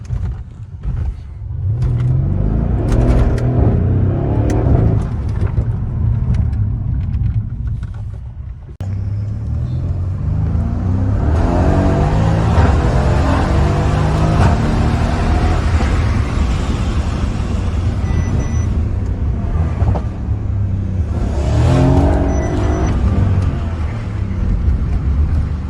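A Mercedes C63S with a V8 engine accelerates in a deep, loud rumble heard from inside, rising in pitch through the gears with a brief shift gap, sustained strongly over about twenty-five seconds.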